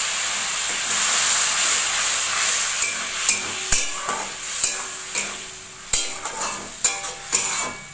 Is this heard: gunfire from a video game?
no